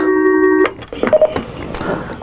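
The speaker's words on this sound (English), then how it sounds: "looks like we got another phone call coming in" A telephone call comes in on a radio call-in show: a steady dial-tone hum, then a few quick tones and clicks as the line connects, with no talk over it.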